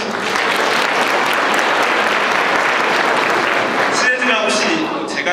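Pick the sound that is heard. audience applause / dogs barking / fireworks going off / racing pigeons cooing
audience applause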